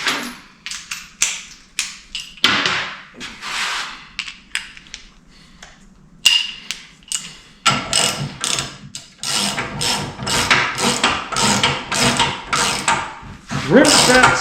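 A ratchet socket wrench clicks in short, rapid bursts in a garage while someone talks over the work. The ratcheting is close and quickens into steadier runs later on.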